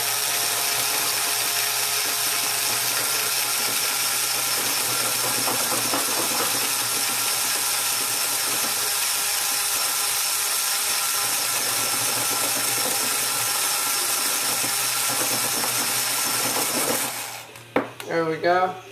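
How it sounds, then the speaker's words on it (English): Electric drill boring a hole while building a magnet camera tripod, a steady loud whine running for about seventeen seconds before cutting off, followed by brief clatter and a voice. "you want to drill the hole first, so you want to drill it."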